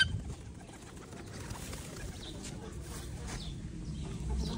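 Caged pigeons cooing softly, low murmuring coos mixed with faint chirps and rustling over a steady low rumble of background noise, fairly quiet and continuous.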